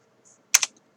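An Enter key on a computer keyboard is pressed once, a quick close double click with no other sound around it.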